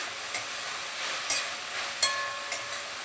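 Coriander bhakri cooking in a pan over a low gas flame, a soft, steady sizzle with a few faint clicks and stirring taps, close and quiet, with no talking.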